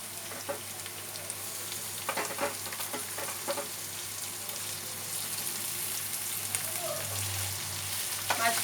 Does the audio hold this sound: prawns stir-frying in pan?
yes